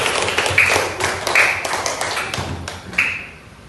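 A classroom of students claps for a classmate named Agus, a few bursts of sharp, close hand claps sounding in uneven clusters over a short stretch.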